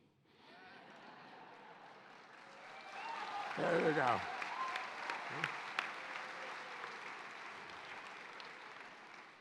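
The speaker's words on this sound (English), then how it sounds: "I pride myself on your applause after saying those two words." Applause rises from a large outdoor university commencement crowd, a broad distant wash of clapping that swells midway and holds steady, with a short spoken remark over it.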